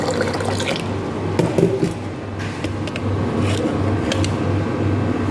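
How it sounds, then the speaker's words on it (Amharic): Water runs into a grinder machine, a continuous close trickle and splash with faint dripping over a low steady hum. "ከዛ እዚህ ጋር ማሽን አለኝ፣ መፍጫ አለኝ፣ ውሃ አረግበታለሁ።"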